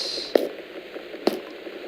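A faucet runs in the Gone Home video game, giving a soft, steady watery hiss broken by two sharp clicks about a second apart. No one speaks.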